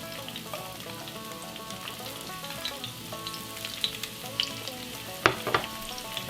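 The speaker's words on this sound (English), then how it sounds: "Looks like the oil is warmed up a little bit. I can see it receding back a little bit, so I'm just gonna toss this onion in." Onion frying in hot oil for an egg dish, a steady soft crackling sizzle with scattered sharper pops, fairly quiet and close, with no talk.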